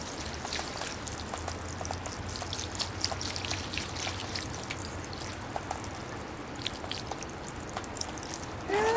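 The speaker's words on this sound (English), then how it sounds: "Okay, so now I'm going to water it, and it should make all the sand settle in." Water poured onto a larch bonsai forest planting, trickling and seeping through sand in a soft, steady, close wash that lasts throughout without pause or speech.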